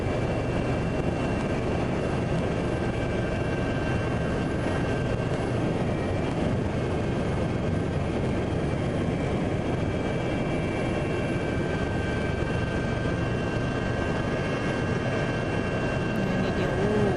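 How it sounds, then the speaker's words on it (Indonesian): Aid aircraft from Malaysia and Singapore arriving at Palembang air base in South Sumatra, a loud steady engine roar droning without a break for the whole stretch. "Pesawat bantuan dari Malaysia dan Singapura tiba di Lanut Palembang, Sumatera Selatan."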